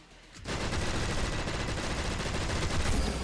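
Sudden burst of rapid automatic gunfire in the GTA-inspired roguelike Gene Shift Auto, starting abruptly after a quiet moment and continuing as a dense, loud, unbroken rattle.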